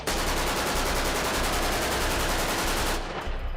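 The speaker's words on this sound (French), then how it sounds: "Ça tire ici dans tous les sens." Sustained automatic gunfire on the front line in Mosul, a dense, loud, rapid stream of shots near the listener that continues without pause before cutting off abruptly.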